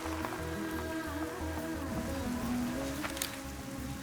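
Steady rain pours down during a film scene where a father arrives to pick up his daughter, a dense patter holding at an even level throughout, with a faint low rhythmic pulse and soft tones underneath.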